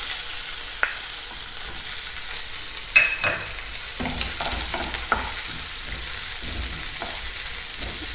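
Garlic and ginger fry in hot oil in a pan for mutton sambar, giving an even, loud sizzle throughout with occasional clicks and scrapes of a spoon stirring.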